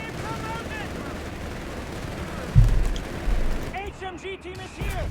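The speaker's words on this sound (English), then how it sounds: "More mortar fire here" Mortar and machine-gun fire in Company of Heroes 3 sounds under continuous commentary, with a heavy thump midway and a few shorter impacts after it, all sitting beneath the talking voices.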